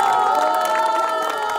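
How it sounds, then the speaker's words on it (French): A large crowd cheers and shouts steadily at a sailing race finish in the harbour at Saint-Gilles-Croix-de-Vie. The roar is loud and continuous, with a mix of high voices. "La foule des grands jours à l'arrivée à Saint-Gilles-Croix-de-Vie"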